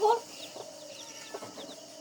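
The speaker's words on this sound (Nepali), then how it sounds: "कुखुराले चल्ला पारेको" A farmyard hen clucking among her chicks, with a brief high peep at the start followed by faint, soft clucks over low background noise.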